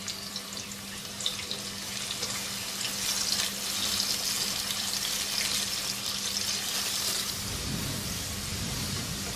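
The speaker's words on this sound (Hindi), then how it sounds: "एक बड़े साइज का प्याज स्लाइसिस में कटा हुआ और गोल्डन ब्राउन फ्राई कर लेंगे इस प्याज को।" Sliced onion frying in hot oil toward golden brown for a Mughlai dish, a steady loud sizzle and crackle that continues throughout, with no talking.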